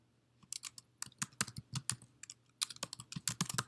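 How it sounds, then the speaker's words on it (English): Fingers type on a computer keyboard while entering text into Google Slides, a close series of crisp, uneven key clicks in quick bursts against a quiet room hum. "and then you just keep typing everything that you need to, that you want to type there"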